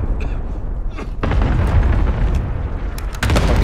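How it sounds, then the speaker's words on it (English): A mortar round blasts in the Call of Duty: Warzone stadium end circle, a loud booming explosion with a heavy low rumble that sustains through the moment, followed by a second sharp blast near the end. "A mortar."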